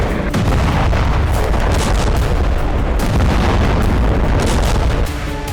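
Explosions and artillery fire in Crimea: a dense barrage of loud booms and sharp blasts, close and continuous, overlapping one another for several seconds with no voices.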